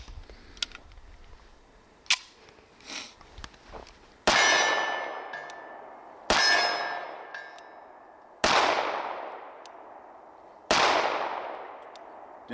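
An Auto Ordnance Commander 1911 pistol fires four evenly spaced shots, each a sharp loud crack with a ringing clang from the steel target, after a few quieter clicks and handling sounds.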